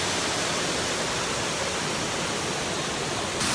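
Catherine Waterfalls sends up a steady, loud rush of falling water, a dense roar that holds constant from start to finish with no voices over it.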